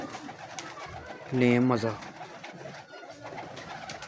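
Pigeons of a fancy breed kept by a hobbyist give a short, loud cooing burst in the middle, with someone briefly speaking and steady background noise around it.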